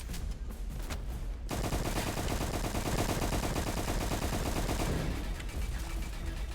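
Gunfire in the Roblox game Dark Moon: a brief patter of shots, then a loud, tightly spaced automatic burst that runs for several seconds before cutting off.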